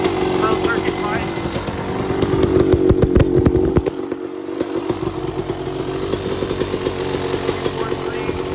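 A Husqvarna WR250 two-stroke dirt bike with a Pro Circuit pipe idles and revs nearby, a rapid buzzing engine note with a short burst of louder revving midway, under a voice speaking.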